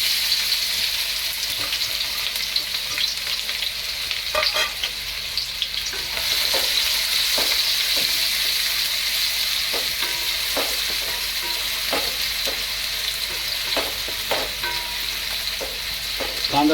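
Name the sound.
onions frying golden brown in hot oil, stirred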